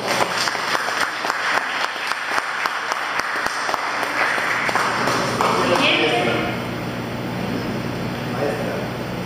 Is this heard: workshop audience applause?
yes